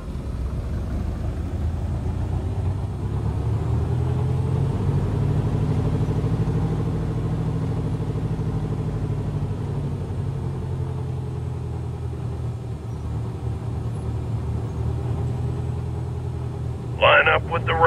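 A small RV-6A piston aircraft engine in a flight simulator game drones steadily before takeoff, a low rumbling hum that swells slightly then settles, ending with a brief sharp burst.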